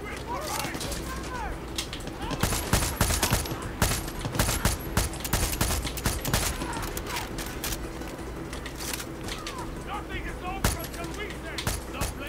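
Video game gunfire in Far Cry 6, bursts of rapid shots and scattered single cracks over a busy game soundtrack, loud and close, with someone talking over parts of it.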